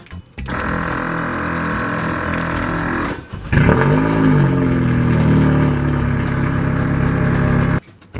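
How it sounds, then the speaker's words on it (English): A car's engine turns over and starts, then revs and settles into a steady running note, loud and close, with a brief break before the start and the sound cutting off near the end. "Let me turn the car back on."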